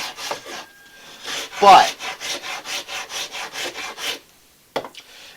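A wooden dowel is sanded by hand with sandpaper in a quick series of about a dozen rhythmic rasping strokes, close and clear, followed by a pause and one last scrape, with a brief spoken word.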